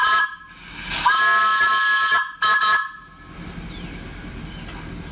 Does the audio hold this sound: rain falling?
no